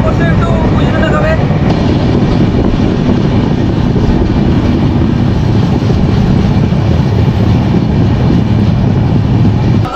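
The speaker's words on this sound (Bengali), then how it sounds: "আর আমাদের ট্রেন এসে পৌঁছালো মেছেদা।" The Tamralipta Express pulls into Mecheda station with a loud, steady rumble and roar of the train filling the whole stretch, close and continuous, with voices faintly underneath.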